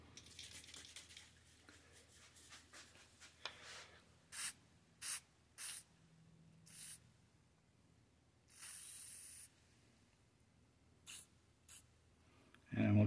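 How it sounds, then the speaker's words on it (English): Short bursts of penetrant spray into a stuck screw hole on an Austin-Healey Sprite Lucas distributor, several brief hisses spaced apart, then one longer spray, fairly close in a quiet workshop. "put some penetrant in from the bottom of the hole"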